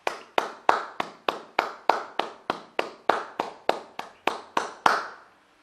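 A congregation claps in steady unison during a prayer, about fifteen sharp, evenly spaced claps in a row, loud and close, with no talking.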